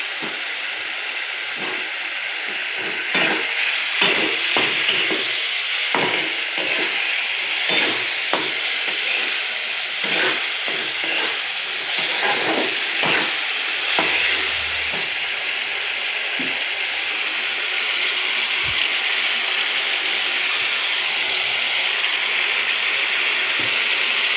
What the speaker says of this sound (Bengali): এবার আলুগুলো এই মশলাটার ভিতরে দিয়ে কষাবো।